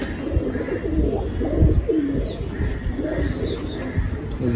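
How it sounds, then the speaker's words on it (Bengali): Several Lakka-type Kaldam (long-tailed nazra) pigeons at a bustling pigeon market coo in low, rolling bursts, one over another, close and steady with faint background chatter. "লংজমা নাজরা কালদম পায়রা"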